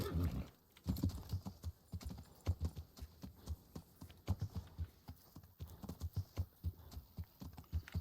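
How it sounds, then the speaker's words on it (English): Horse hooves clip-clop at a steady riding pace in the medieval video game Kingdom Come Deliverance, with a few louder hoof strikes and a brief snort standing out over low ambient background. "Vamos, caballo, que ya estamos ahí."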